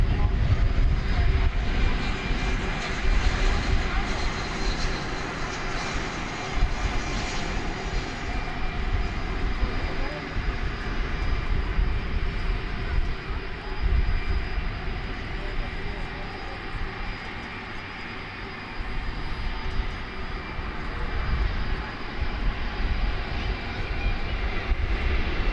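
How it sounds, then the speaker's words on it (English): Boeing 747 jet airliner at DFW Airport, its steady engine roar filling the air as a sustained broadband drone, fairly distant and even in level, with a brief human voice in the background. "It is a 20th century 747."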